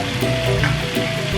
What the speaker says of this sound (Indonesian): kita tumis bawang putihnya